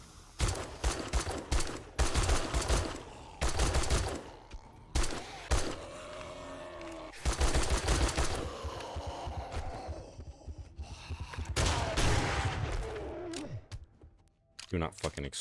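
Rapid bursts of gunfire blast at a zombie in the survival game 7 Days to Die, loud repeated volleys broken by short pauses, with a voice talking over parts of the shooting.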